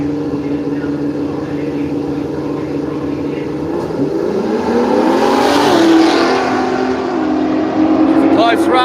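Drag racing at Willowbank, Australia: a Valiant and a Torana launching side by side on a radial drag strip, engines droning loud and rising into a roaring surge as they pass, with a crowd and commentary under the noise.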